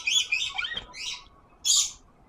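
A pet lory parrot gives several bright, high chirps and squeaky calls close by, in irregular bursts with short gaps, ending in one louder shrill call.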